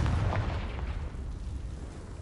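A Confringo fire-blast spell from Hogwarts Legacy erupts as a loud, dense booming roar that fills the whole moment and slowly tapers, with no other sounds over it.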